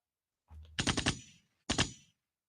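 A voice mimics gunshots with his mouth: a sharp burst of several rapid popping bursts, then one more burst after a short pause, close and loud.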